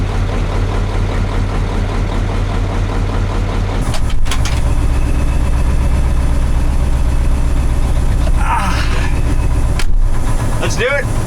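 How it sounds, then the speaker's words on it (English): A truck's V8 diesel engine idles after a cold start, a steady loud low rumble running throughout, with a brief change in tone near the middle and faint voices and background noise mixed in. "Starting the V8s in the cold is basically just boring."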